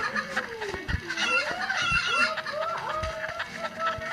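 Repeated clucking of chickens in a video game, a series of short rising cackles close by, with faint background clatter and no speech.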